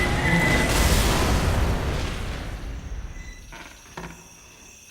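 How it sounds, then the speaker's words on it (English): A pipe bomb detonates in the video game Left 4 Dead, a loud booming blast that rolls off into a fading rumble, followed by quieter game sounds and a few faint clicks. "I probably didn't even need to throw out that pipe bomb there"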